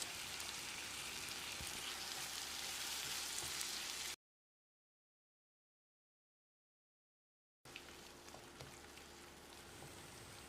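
Ground spice paste sizzles and fries in a pan for an egg gravy, a continuous crackling hiss broken by a stretch of complete silence before the sizzle resumes.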